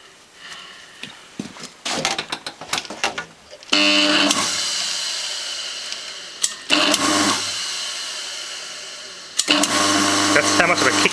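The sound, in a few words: sewing machine motor running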